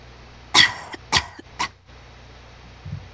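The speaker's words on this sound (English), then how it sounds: "In the darkness, some pony coughed." A pony coughs in darkness in a grim audio drama scene: three separate harsh coughs close together, fairly loud against a quiet background, followed by a faint low murmur.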